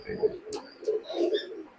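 Pakistani high flying pigeons at a sale, cooing in soft low rounded calls that repeat several times over a short stretch, close by, with a few faint higher chirps in the background.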